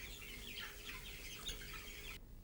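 Chickens at a poultry farm cluck and chirp in a steady, busy chorus of fowl calls at moderate distance, with no speech over it, cutting off abruptly near the end.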